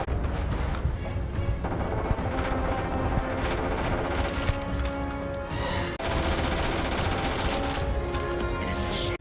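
Dense, loud bursts of gunfire from a creature shooting at the player in Starfield, rapid volleys cracking almost without pause, with heavy impacts mixed in.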